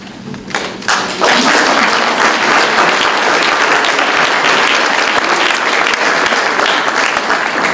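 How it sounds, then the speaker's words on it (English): An audience at a conferring ceremony breaks into loud, sustained applause. It starts with a few scattered claps, then swells within about a second into a dense, even roar of clapping that holds to the end. "I hope that you'll join in a big round of applause for them"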